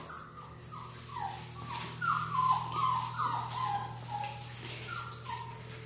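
Several six-week-old puppies whimper and yip in a run of high, sliding cries, close and clear, over a steady low hum.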